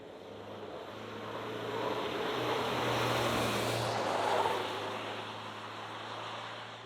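A Toyota HiLux hybrid ute in Sport mode lapping a test track gives a low, steady engine and road rumble that swells and then eases, heard from inside the cabin with no talking.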